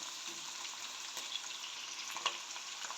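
Garlic, onion and ginger fry in a steady, close sizzle of pork fat and olive oil, a dense continuous crackle with small pops and brief stirring scrapes throughout.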